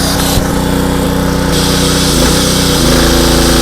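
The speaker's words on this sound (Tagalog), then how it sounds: "Umaandar mga kaibigan" A 2-in-1 petrol generator with a built-in welding machine runs close by, a loud, steady buzzing engine drone with a slight pitch shift partway through.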